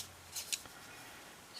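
Two quick snips of scissors cutting a strip of paper for a banner on a handmade Easter card, close and crisp with no talking.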